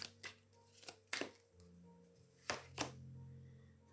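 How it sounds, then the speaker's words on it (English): Tarot cards are shuffled by hand close up in a quiet room. Several crisp riffling snaps come at irregular intervals, with faint handling noises between them and no speech. "I might shuffle them this way."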